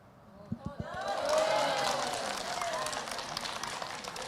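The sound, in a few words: audience applause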